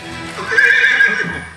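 Horses whinny loudly in a single long, close neigh, with a faint clop of hooves under it, heard alone with no talk.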